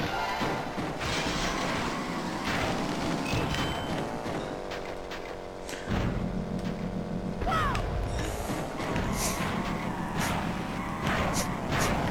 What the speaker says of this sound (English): I apologise to the sniffles, I've got a cold.